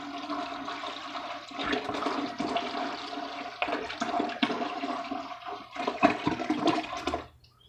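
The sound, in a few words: apple juice being poured into a bucket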